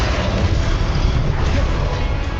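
Rumbling, booming blast from the Confringo fire spell in the video game Hogwarts Legacy, a dense, sustained low roar that fills the short clip at steady loudness with no pause.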